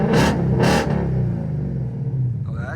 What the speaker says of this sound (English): we're gonna give it a couple revs right now.